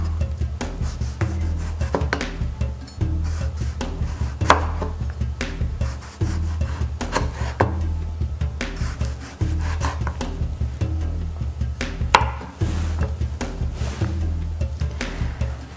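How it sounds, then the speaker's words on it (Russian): Repeated knife strokes slicing a tomato into thin strips on a cutting board, a steady series of soft scraping slices with occasional sharper taps, close and continuous. "Помидор нарезаем тоненькими полосочками."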